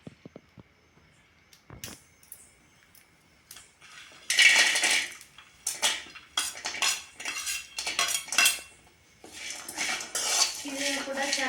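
Dry coconut is stirred and roasted in a pan for a masala tomato chutney. A quiet stretch with a few clinks gives way to bursts of loud metal scraping and rattling as a spoon works the pan.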